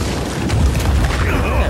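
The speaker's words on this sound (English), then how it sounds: "Look at that blast back" A blast from the Just Cause 4 Los Demonios DLC, a loud close boom with a deep low rumble and crackling debris that rolls on for under two seconds, with game chatter mixed in.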